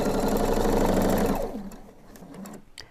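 A sewing machine stitching the seam of a cushion cover runs in a loud, steady whir for about a second and a half, then slows and stops, leaving faint clicks.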